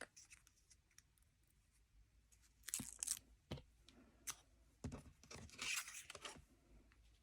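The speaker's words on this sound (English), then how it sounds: "Just pop a bit of tape on the back." Sharp tearing and crackling bursts of tape pulled off a roll for cardstock in a quiet craft room, several quick rips in the second half over faint background.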